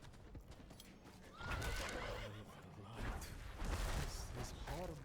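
A horse whinnies in the video game Diablo IV, heard over clip-clopping hooves and busy in-game background sound, with a voice faintly present in the mix.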